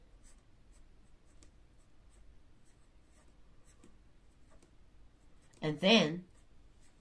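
Marker or pen strokes on a board during a math lesson, a short burst of scratchy writing near the end, after a brief spoken phrase and quiet room tone.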